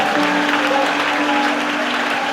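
A church congregation applauds during a French-language sermon, producing a dense, loud, sustained wash of clapping from many hands that fills the whole moment evenly, with faint voices underneath.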